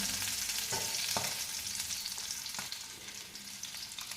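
Mutton tikka boti pieces roast crisp in a pan with a steady close sizzle, broken by a few soft scraping taps of stirring, with no voices.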